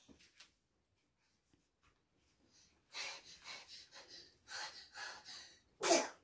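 A young child sneezes once near the end, a sharp loud burst after several seconds of breathy, snorting sounds in a quiet indoor room during puzzle play.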